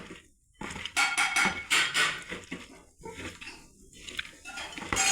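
Salt, turmeric and mustard seeds being mixed in a metal container: bursts of clattering and scraping with short pauses between, close and fairly loud.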